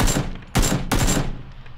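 Three loud close gunshots in the PUBG battle royale game, spaced roughly half a second and then a third of a second apart, each with a sharp crack and a brief decaying echo.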